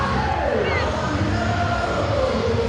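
Sold-out stadium crowd at a Savannah Bananas baseball game, a dense, steady roar of cheering and shouting from thousands of fans with a announcer's voice riding over it.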